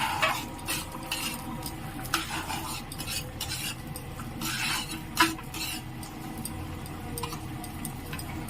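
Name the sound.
frying and stirring in a pan for payesh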